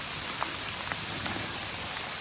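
Rain falls steadily in the Maine woods during deer season, a dense, even hiss with a few faint individual drops standing out.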